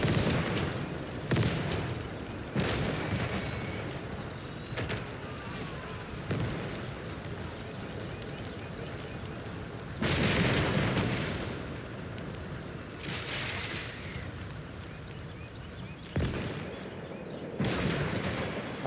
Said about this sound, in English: I hear you, mortars.